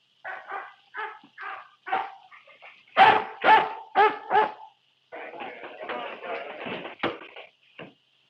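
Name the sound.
dog barking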